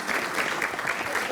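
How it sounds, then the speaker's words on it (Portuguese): Brief burst of audience applause at a presidential event at the Belém Palace, close, steady clapping from a room of people with a faint voice underneath. "salva de palmas"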